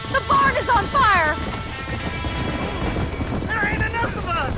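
Horses in the Red Dead Redemption video game, trapped in a burning barn, with hooves thudding and clattering, while shouting voices overlap the commotion near and loud.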